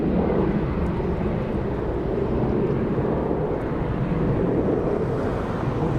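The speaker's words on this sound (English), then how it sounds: "E175 rotating, heading to San Francisco." Embraer E175 jet rotating on takeoff at LAX, a loud continuous roar of jet engines with rumbling wind noise, sustained and steady throughout.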